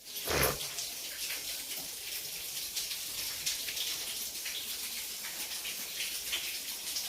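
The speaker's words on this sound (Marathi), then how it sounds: "बघा बघा हो का पाऊस चाललाय" Steady rain pours down outdoors, a dense broadband hiss of falling water with a louder splashing burst near the start, continuing evenly and fairly close throughout with no voices.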